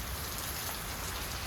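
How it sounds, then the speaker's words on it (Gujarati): Steady rain falls over waterlogged farm fields, a soft, even hiss of drops throughout with no voices present. "જોતા વરસાદ આવે અહીંયા ખેતરોમાં પાણી ભરાઈ ગયા"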